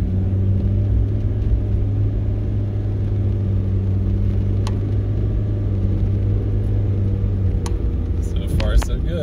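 A Kei truck drives hard, its engine holding a loud, steady droning rumble with a strong low hum throughout, followed by a few brief clicks and rattles near the end.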